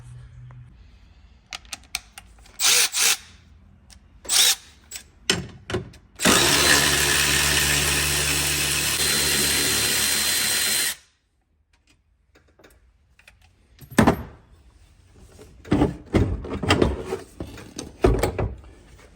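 A power tool runs on the seat bracket bolts of a Yamaha RMAX2 side-by-side. One steady, loud whirring burst lasts about four seconds, framed by scattered clanks and handling knocks before and after.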